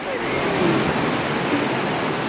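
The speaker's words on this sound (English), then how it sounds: "These waves are so loud." Loud ocean surf crashing and churning around Blowhole Rock at Shirahama Beach, a dense continuous roar of water heard up close without talk.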